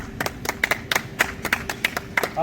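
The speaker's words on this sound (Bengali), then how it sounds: "সুপল দার জন্য হাততালি একদম" A small group of people claps for the organizer at a logo and jersey unveiling ceremony for a riders' club. The claps come as sharp, fairly regular hits at close range, with almost no talk underneath.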